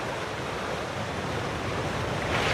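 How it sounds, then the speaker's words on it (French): A waterfall roars with a constant, dense rushing noise, loud and unbroken from start to finish, with no voices. "C'est une chute d'eau."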